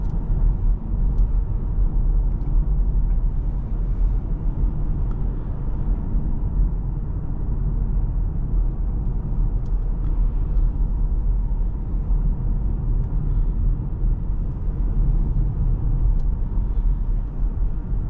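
Interior of a 2025 Nissan Leaf SV Plus electric car under way, a steady low road rumble and tire hum with no engine note, continuous and moderately loud throughout.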